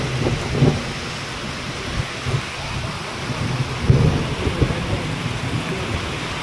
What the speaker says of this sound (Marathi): डेंजर पाऊस सुरू झाला जरा